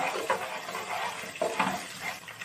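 Chicken curry with ginger and spices being stirred in a pan, village-style country chicken (natu kodi): soft scraping and gentle sizzling with a few louder clinks at a steady close level, no voices.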